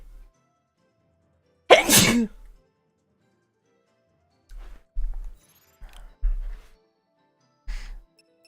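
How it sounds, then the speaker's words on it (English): A single loud, sharp human sneeze erupts close up, followed by scattered short breaths and small vocal noises spaced apart with quiet between them. "I'm gonna sneeze."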